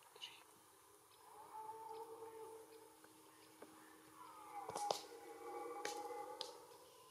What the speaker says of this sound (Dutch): dus een roedel herten met een geweidrager erbij, die net al een paar keer een bubbel uitstoot.